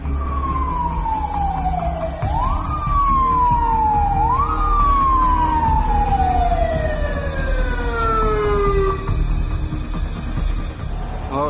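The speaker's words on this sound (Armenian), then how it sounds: "Հա, շտապօգնությունն էստեղ է" An ambulance siren wails close by, its pitch gliding down repeatedly in long sweeps with sharp upward resets, loud and steady over low vehicle rumble.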